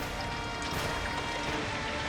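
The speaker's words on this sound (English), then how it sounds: "A shower of exploding, jagged glass." Thick office-tower window glass bursting apart during a skyscraper blaze, a loud, sustained wash of crashing and shattering debris that fills the whole moment with no clear pauses.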